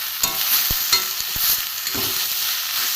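Fish head and okra being sautéed in a pan with chili, turmeric, cumin and coriander powder and salt, with a soft steady sizzle under several sharp knocks and scrapes of a spatula stirring.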